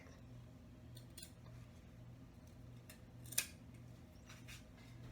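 Scissors cut a strip of elastic for a skirt waistband, one sharp close snip standing out over a quiet room with a low background hum and a few faint handling clicks.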